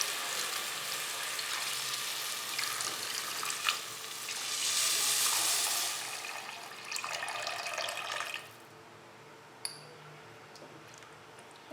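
Steady rushing hiss of water poured into a pot of barley soup with cauliflower, lasting several seconds and swelling midway before cutting off, followed by a few small clinks.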